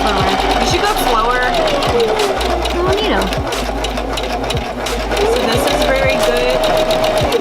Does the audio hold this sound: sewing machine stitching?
yes